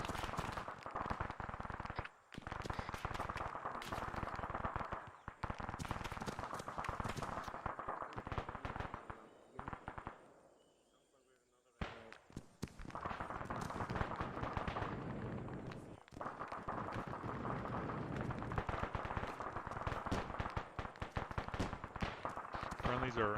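An anti-aircraft gun fires in a military video game, dense rapid bursts and booming reports crackling almost continuously, with a short lull in the middle and voices talking faintly beneath.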